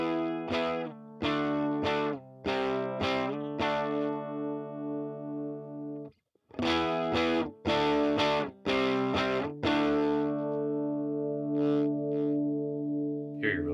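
Electric guitar through an overdrive pedal, breaking up into gritty distortion, struck as a run of sharp repeated chords, a brief silence, then more stabs ending in a held, ringing chord; no voices.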